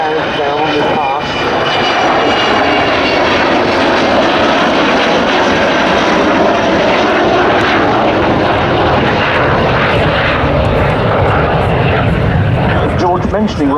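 The Avro Vulcan XH558 bomber makes a low pass with its 18-wheeled undercarriage down at RAF Waddington, its jet engines a loud, sustained roar swelling and shifting as a commentator's voice runs over it.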